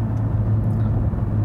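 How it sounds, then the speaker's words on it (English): A Honda NSX's 3.5-liter twin-turbo V6 running in Sport Plus mode gives a loud, steady low rumble heard close, with no talk over it. "when you have it in Sport Plus mode, the engine actually sounds pretty damn good"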